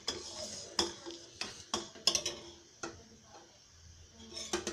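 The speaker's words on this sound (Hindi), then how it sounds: "इसे चलाते रहें चलाते रहें" A spoon scrapes and clinks against a metal pot while milk slowly thickens for rabri, a desi-style sweet, producing intermittent sharp taps and soft scraping strokes at close range, with quiet gaps between the strokes.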